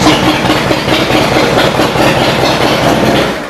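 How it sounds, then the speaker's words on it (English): A 2005 Harley-Davidson CVO Screamin' Eagle Fat Boy motorcycle engine idles close by with a loud, steady, throbbing rumble that holds evenly throughout, then eases slightly at the end. "it fires right up first time every time. This thing sounds amazing."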